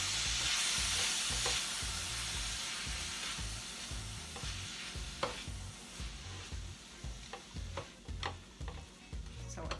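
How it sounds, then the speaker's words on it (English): Ground pork frying in a pan for pork and potato samosas as curry is stirred in, a steady close sizzle with repeated spoon scrapes and clicks, no voices. "We're going to stir that in, and then we're going to add some curry."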